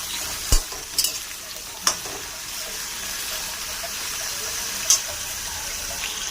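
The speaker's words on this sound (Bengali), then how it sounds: "এবার তেলটা দিলাম, যেই আলু কেটে রেখেছি এবার দিয়ে দেব" Cut potatoes frying in hot oil, a steady soft sizzle throughout with a few sharp clicks and scrapes of a utensil stirring in the pan.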